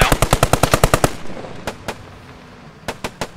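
Machine gun fire in the World War II shooter Post Scriptum: a loud, rapid burst of about ten evenly spaced shots, then a pause and a few scattered single shots, with no voices.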